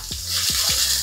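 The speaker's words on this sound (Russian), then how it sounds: "Закидываем все это на сковородку, то есть лучок и морковку. А на растительном масле обжариваем." Onions and carrots fry in vegetable oil in a pan with a steady hiss of sizzling, plus a few low clunks as the vegetables are stirred.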